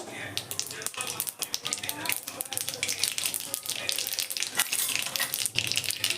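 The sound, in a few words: mustard seeds spluttering in hot oil in a wok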